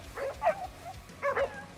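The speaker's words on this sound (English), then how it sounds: "Don't bark at me like that" A black Jindo dog in Crimson Desert barks in two short pairs of yips, close and moderately loud with no talk over them.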